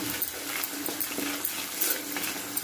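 Potato masala with turmeric being stirred in a pan: a steady bright sizzle of frying with soft scraping strokes and faint utensil clicks, close and continuous, no voices.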